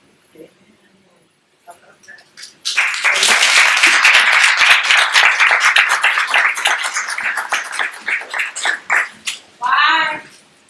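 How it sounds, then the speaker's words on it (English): Clapping breaks out after a quiet stretch, a burst of many hands that holds steady for several seconds before thinning into scattered claps, with a voice rising at the very end. "Why are you clapping?"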